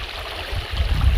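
Fresh stream water flowing beside the Pacific Crest Trail, a short burst of close, rushing, gurgling flow with a low rumble.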